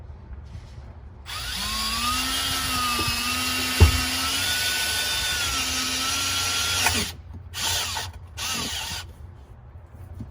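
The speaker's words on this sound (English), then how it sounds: "drill your hole" A power drill whines steadily for several seconds while drilling a hole in a C6 Corvette Z06, pitch wavering as it bites in, then stops and gives two short bursts.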